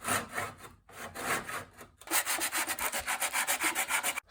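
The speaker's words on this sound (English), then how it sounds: "I'm going to shave all the wood all along this line" A hand tool shaves plywood along a marked line on an ejection seat knee guard replica, giving repeated rasping strokes: two longer passes, then a quicker run of short rhythmic scrapes, close and fairly loud with no talk.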